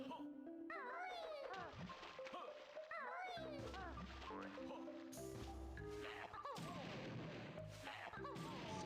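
Grenades explode in a video game, several booming bursts landing mid-clip over steady game noise and ongoing commentary voices.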